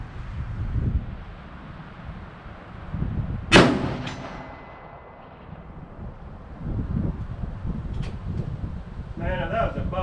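A single loud handgun shot, fired free-handed at an outdoor shooting range, cracks once amid steady wind buffeting the microphone, with people talking before and after it.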